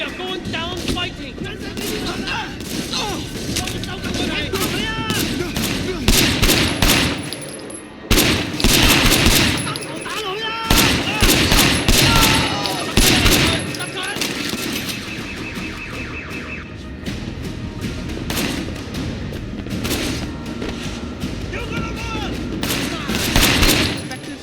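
Heavy gunfire during a shootout in the video game Sleeping Dogs, with rapid bursts of automatic fire and sharp shots cracking in dense clusters over a constant backdrop of action noise, loud and close.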